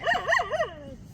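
A mother dog that has recently given birth lets out a few quick, high, wavering yips and whines close by, trailing off into a short whimper.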